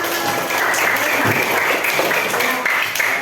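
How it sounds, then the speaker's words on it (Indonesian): Classroom applause from students in a primary school science lesson, a dense, loud burst of many hands clapping together at close range for about three seconds, with faint voices mixed in. "Tepuk tangan untuk kita semuanya."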